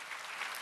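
A church talk-concert audience gives a short burst of applause, a brief, even patter of many hands with no voice over it.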